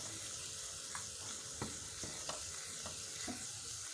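Vegetables for ratatouille sizzle in a pan with garlic, a steady quiet crackle broken by soft scraping stirs.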